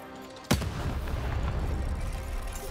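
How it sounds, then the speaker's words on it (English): A bomb detonates in the video game Lost in Random: one sudden loud boom followed by a rumbling, crackling tail that lingers for a couple of seconds. "That's a bomb."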